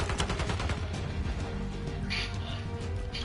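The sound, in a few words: gunfire in video game Black Ops 6 multiplayer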